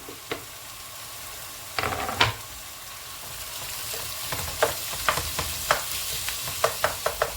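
Cubed meat sizzling and frying in a pot, with a soft, continuous crackle and scattered sharp clicks of stirring against the metal.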